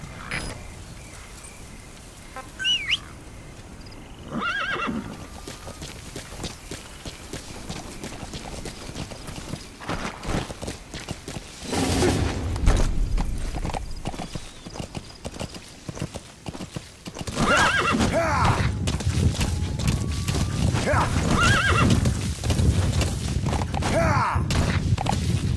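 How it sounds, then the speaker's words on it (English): In Metal Gear Solid V, a horse gallops with rapid rhythmic hoofbeats and lets out several loud neighs and whinnies, over wind and ambient game noise with occasional thuds. "Use your horse."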